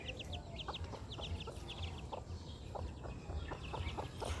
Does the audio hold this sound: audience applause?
no